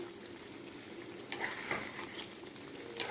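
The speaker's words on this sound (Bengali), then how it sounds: "কসুরি মেথি দিয়ে একটু ফুটিয়ে দিলাম" Egg korma with kasuri methi simmering in a pan, a soft continuous bubbling sizzle with occasional light clicks of a spoon stirring, close and fairly quiet.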